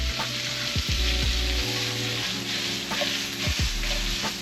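Hot dogs and onions sizzle steadily in a hot pan during a home stir fry, with repeated scraping tosses of a utensil breaking through the constant close frying hiss.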